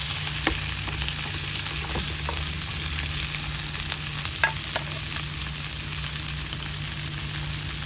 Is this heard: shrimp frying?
yes